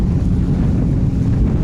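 Steady wind gusting across Lake Mohave near Davis Dam on the Colorado River, a loud continuous low roar buffeting the microphone throughout, with no voices.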